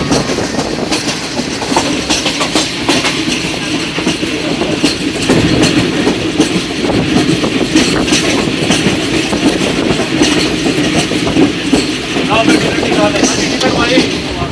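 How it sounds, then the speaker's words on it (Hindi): Pakistan Railways Karachi Express running on the line between Multan and Lahore, a steady loud rumble with rhythmic clickety-clack of wheels over rail joints throughout, joined by occasional voices. "पाकिस्तान एक्सप्रेस, रहमान बाबा, शाह हुसैन और मिल्लत एक्सप्रेस भी थोड़ा थोड़ा मूव करके आती है इस लाइन"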